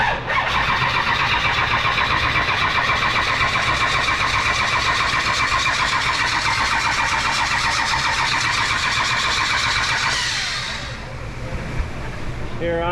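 A 1965 Shelby Cobra with a 454 big block, its starter motor stuck on, cranking the engine over without firing in a fast, steady whirring churn that runs loud for about ten seconds, then cuts off.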